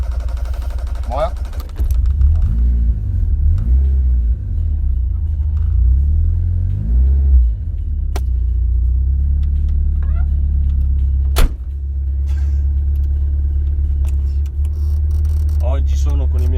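A 1985-era Fiat Uno Turbo i.e. drives along, its engine giving a loud, steady low rumble inside the cabin that rises and falls with gear changes, with a sharp knock near the middle.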